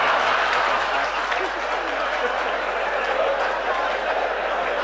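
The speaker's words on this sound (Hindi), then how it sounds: "अगर बजाना तो जम के एक बार तालियां बजाओ" An audience at an all-India mushaira in Bhiwandi claps in a dense, steady wash of applause that holds at an even level throughout.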